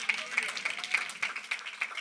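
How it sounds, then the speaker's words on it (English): A church congregation claps hands in a steady, even rhythm, with sharp regular claps about three per second, over a continuous bed of worship sound. "clap your hands for his word today"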